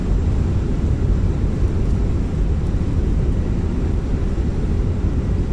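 Airliner thrust reversers roar on landing in Microsoft Flight Simulator 2020, a loud, dense, continuous rushing engine roar heard close and without talk.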